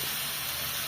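Goat meat frying in a pan with a little water for a Bangla home-cooked dish, giving a steady, close broadband sizzle and hiss that holds without a break and has no talk over it.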